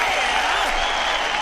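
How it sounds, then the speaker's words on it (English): Brief burst of steady, dense hand clapping from a group, continuous and moderately loud, with a cheering voice briefly rising over it. "Let's give it a hand clap for"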